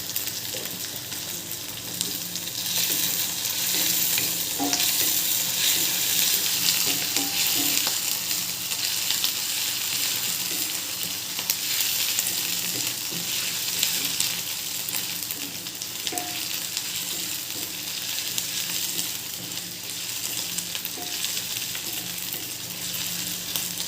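Spices with ginger-garlic paste sizzle and fry steadily in hot oil, a continuous close crackling hiss with occasional stirring.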